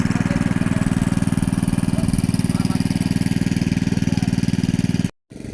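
A small engine-driven water pump draining a little pond chugs in a fast, steady rhythm, loud and close, with a brief cutout just before the end.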